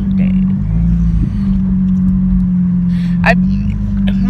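Car cruising along on a Sunday, a steady low engine drone heard from inside the cabin, with brief voices over it.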